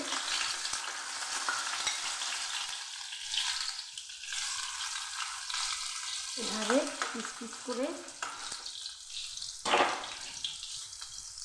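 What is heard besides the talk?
boiled elephant foot yam frying in fish-frying oil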